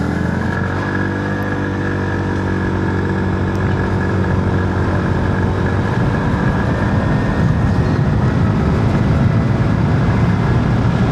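A 2025 TVS Scooty Zest 110 scooter on the move, its small engine droning steadily with a constant rushing road and wind noise, close and continuous with no talk.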